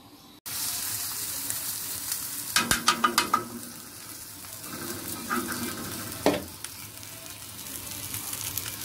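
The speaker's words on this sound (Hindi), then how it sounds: "यहाँ सालन बस गर्म कर रही हूँ मैं" Curry (salan) reheating in a pan gives a steady sizzle with a sharp clatter of stirring strokes, moderately close, with no talk.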